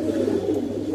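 Beji breed pigeons coo in a steady, low, throaty murmur that stays close and continuous before cutting off abruptly at the end.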